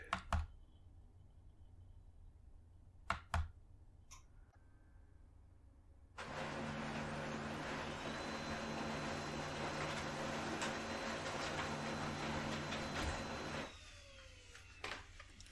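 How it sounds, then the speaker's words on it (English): A Brother printer prints a test page, a steady mechanical whir and rolling hum that begins abruptly after a few clicks, runs for about eight seconds at moderate level, then stops. "I don't know if you could hear that in the background, but the test page is complete."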